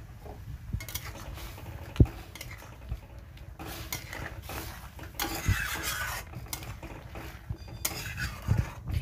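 Unfried paneer pieces dropped into a pan of oil-free gravy, with soft clinks of a utensil against the pan, scraping and stirring, and faint bubbling underneath, fairly close and quiet.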